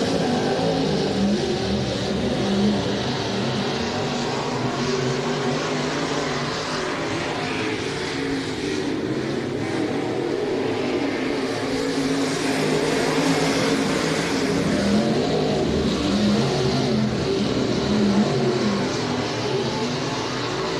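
Race cars circle the Hibbing Speedway track during weekly racing, a continuous broad engine roar that swells and fades slightly as the pack passes, with no clear voices.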